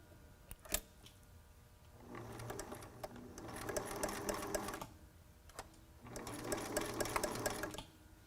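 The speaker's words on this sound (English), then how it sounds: "keep the elastic away from where you're sewing" A sewing machine stitches elastic onto a T-shirt face mask in two steady bursts of rapid mechanical whirring, separated by short pauses with clicks and handling noise.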